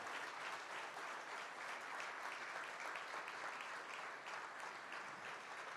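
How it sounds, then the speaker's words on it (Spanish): Dense, steady applause from a large audience at a closing conference colloquium, a continuous wash of clapping heard from a distance and fairly faint, with no speech over it. "Una vez más con un fuerte aplauso."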